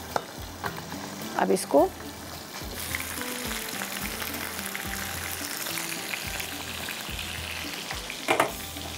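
Slit green chillies and spices, including black pepper and cumin, fry in oil in a pan for an Afghani chicken gravy, making a continuous close sizzle with repeated soft stirring knocks and scrapes, while someone speaks briefly over it.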